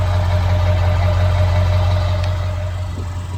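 A 2001 Ford Excursion's 7.3L Powerstroke diesel idles close up near the exhaust, a loud, steady low rumble with a constant deep throb and no talk.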